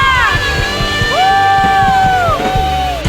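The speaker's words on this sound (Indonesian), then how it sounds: "Yang percaya sorakan haleluya." A church congregation at a Sunday worship service shouts and cheers together, a loud sustained wash of raised voices and whoops with some voices sliding in pitch over the crowd noise.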